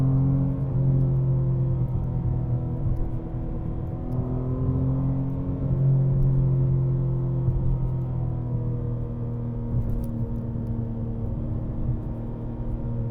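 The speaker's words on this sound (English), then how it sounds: "this car on the outside is extremely loud" A BMW G80 M3 RWD with a six-speed manual, on summer tires with a Dinan monoball conversion, drones loudly and steadily from inside the cabin, its engine note rising and falling slightly as it drives, with no one talking.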